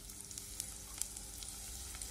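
Onions dropped into hot oil alongside bay leaves for a potato and jackfruit masala curry, frying with a steady dense sizzle and faint crackling pops close by, no voices.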